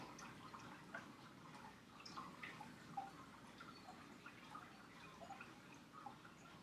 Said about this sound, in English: I like all the sounds of water.